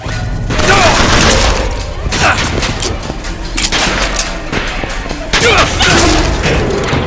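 Heavy gunfire from BioShock Infinite crackles in dense bursts throughout, with booming impacts and loud, sustained volleys. Shouting voices of enemies can be heard over the shooting.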